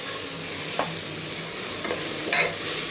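Four green chillies frying in a pan while cooking mutton curry, a steady close hiss of oil with a few brief stirring scrapes, no talking.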